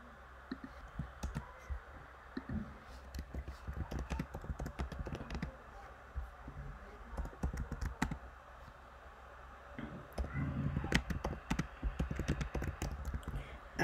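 Keys clatter steadily on a computer keyboard, rapid light clicks in uneven bursts with brief pauses, close and fairly quiet with no voice over them.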